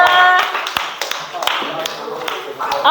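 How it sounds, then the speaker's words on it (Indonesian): Scattered clapping from a small group of students in a classroom, a handful of sharp separate claps spread unevenly over a few seconds, with voices and talk running underneath. "tepuk tangan buat kalian semua"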